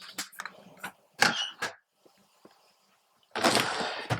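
A messy makeup drawer holding concealers and eye products being opened, sharp clicks and knocks followed by a rattling, scraping slide, close and loud.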